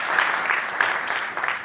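An indoor audience breaks into steady, dense applause at a business seminar, many hands clapping together for a short stretch at close range.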